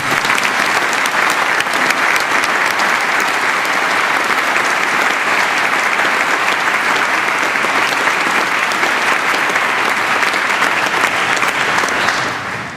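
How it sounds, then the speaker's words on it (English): Sustained audience applause at a University of Western Australia graduation ceremony, a dense, loud wash of many hands clapping continuously for about twelve seconds before tapering off, with no speech over it. "it's my habit to ask you to applaud them even though they aren't here"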